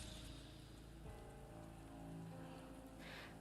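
Rain falls in a video game scene, a faint, steady patter under soft background music, with a brief sharp click at the very end.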